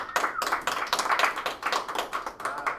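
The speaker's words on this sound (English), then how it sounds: "let's give a big round of applause already here" Applause at a startup open pitch event: a small group claps in quick, distinct strikes, the separate claps clearly audible and fairly close, with only a slight dip in intensity toward the end.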